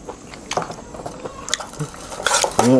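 Utensil stirring vegetables into an apple snail salad, scattered scraping and clinking taps against a bowl in irregular bursts, close and fairly clear, with a brief voice between the sounds.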